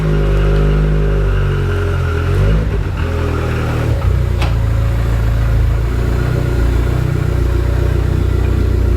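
An abandoned Ford Sierra Sapphire RS Cosworth engine idles steadily and close, a continuous low rumble with slight swells as the car is driven out of a garage.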